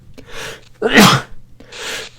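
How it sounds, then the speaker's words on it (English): A single sharp sneeze, close and loud, preceded by a couple of short breathy intakes and followed by a softer exhale. "I'm about to sneeze."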